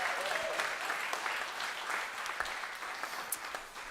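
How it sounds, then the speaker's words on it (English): Audience applause at a live New Year's Eve gig, a moderate crowd clapping steadily and fading slightly toward the end, heard at some distance and fairly quiet. "I'm gonna give myself a round of applause."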